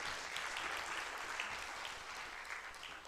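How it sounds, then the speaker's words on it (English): Audience applause fills a strategy launch and storytelling event, a steady broadband wash of many hands clapping at moderate volume throughout, with no voices standing out. "A round of applause to all of us, please."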